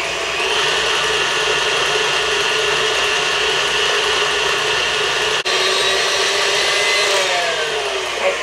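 An electric mixer beats apple shortbread dough with a continuous close whirring buzz that holds steady for several seconds and stops briefly partway through.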